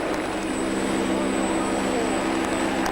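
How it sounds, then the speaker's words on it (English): Army helicopters arrive from a base and come down through a stadium roof at a football match, a steady loud rotor and engine roar that fills the scene with no pause. "While helicopters from the Remy base at Arborfield dropped in through the roof to deliver the match ball to Royals chairman John Medeski."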